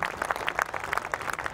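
Audience clapping at a Hindi poetry recital, a short burst of steady applause from a crowd.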